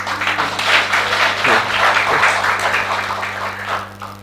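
A seated congregation at a send-off service applauds itself, a continuous dense round of clapping over a steady low electrical hum, tapering slightly at the end.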